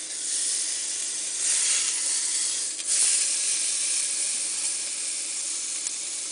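A pork rib roast browns in a pressure cooker, giving a steady, loud, close sizzle and hiss that runs without a break.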